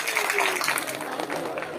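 A rally crowd at a large Marathi gathering claps in a steady burst, with a speaker's voice sounding over the applause.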